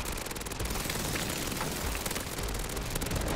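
Sustained rapid automatic gunfire in MW3 Zombies, loud and dense, with shots blending into a continuous rattling barrage.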